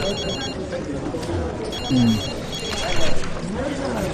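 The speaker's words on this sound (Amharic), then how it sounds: "ስልክ" A telephone rings with repeated electronic trills in a dramatic indoor scene, sounding mid-level behind voices talking and background noise.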